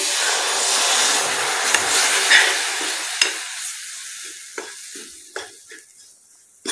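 Semolina mixed with warm milk being stirred in a pan for rava modak, first a loud broad hissing sizzle that fades after a few seconds into quieter scattered scrapes and taps, close by, no talking.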